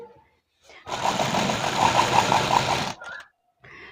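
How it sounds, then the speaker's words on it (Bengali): Sewing machine running a shoulder seam on a kameez, a short steady burst of rapid mechanical stitching lasting about two seconds, close and clear between quiet pauses. "হাফ ইঞ্চি করে গ্যাপিং দিয়ে পুড লাইনটা সেলাই করে নেব প্রথমে"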